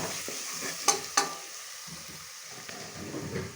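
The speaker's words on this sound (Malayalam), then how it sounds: "ഇനി നമുക്ക് ഇതൊക്കെ ഒന്ന് ഇളക്കിയതിന് ശേഷം അളന്ന് വെച്ച വെള്ളം അങ്ങോട്ട് ഒഴിച്ചു കൊടുക്കാം" A chicken masala mixture is stirred in a pan over the heat, with two sharp metallic clanks from the utensil early on, then softer scraping and a low, steady sizzle close by.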